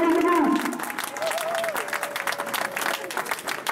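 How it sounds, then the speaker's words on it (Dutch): Crowd applause for race winners at a village fair, a broad outdoor wash of clapping that continues steadily, with an announcer's voice heard over it at the start. "Geef ze nog een daverend applaus."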